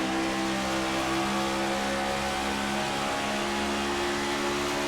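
On-board race car engine in a racing video game at Charlotte, a loud steady high-revving drone with tonal whine held throughout, close and continuous with no talk.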